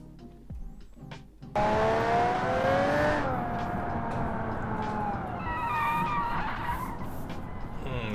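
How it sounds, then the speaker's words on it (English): A car in the BeamNG driving game locks its brakes, and the tires skid with a loud sustained squeal that starts abruptly and then fades into a rougher scrubbing noise while the engine drones underneath. "The brakes are locking up as usual."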